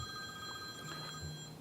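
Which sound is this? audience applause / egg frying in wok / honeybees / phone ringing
phone ringing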